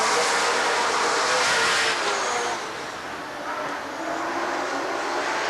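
Stock cars roar around Rockford Speedway in a 1994 Sunday race as the green flag drops, a loud, sustained engine drone that swells and dips slightly as the field passes.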